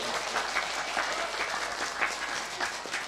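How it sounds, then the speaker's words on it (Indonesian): A crowd claps steadily and continuously, a dense patter of many hands at moderate distance. "Tepuk tangan buat Lurah kita Bu."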